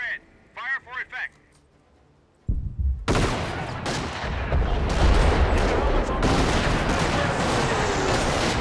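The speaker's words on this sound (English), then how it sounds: "Get those 25 pounders firing. Target my smoke and fire the howitzers." Howitzer and 25-pounder artillery fire in the Company of Heroes Caen mission erupts after a brief radio-style voice, a loud sustained barrage of booms and gunfire rumbling on to the end.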